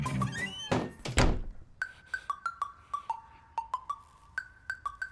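A door is shut with a heavy, close thud, followed by a rhythmic series of sharp, ringing taps.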